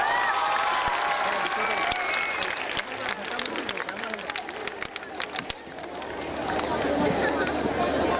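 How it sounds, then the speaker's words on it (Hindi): An audience at an Urdu fair event breaks into applause mixed with crowd chatter and cheering, with clapping that thins in the middle before swelling again, and voices talk through it. "एक बहुत ज़ोरदार तालियों का नजराना पेश कर सकते?"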